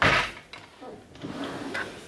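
A drawer in a home nail salon room slides open with a short scraping rattle, followed by quieter handling sounds inside it, close by and fairly soft.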